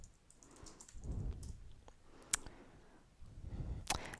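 Sparse light clicks of a computer mouse during a database search, a few soft separate taps spread out over several seconds against quiet background noise.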